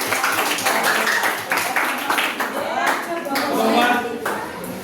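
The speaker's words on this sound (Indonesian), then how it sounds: "terima kasih tepuk tangannya" Students clap in an Indonesian classroom during teacher-training practice, a scattered round of hand claps mixed with talk and chatter close by.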